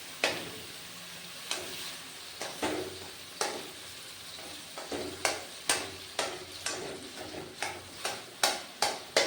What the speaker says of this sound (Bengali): পেঁপেগুলো একটু বড় বড় করে কেটে সেদ্ধ করে নিয়েছিলাম, তাই খুন্তি দিয়ে কেটে ছোটো ছোটো করে নিচ্ছি।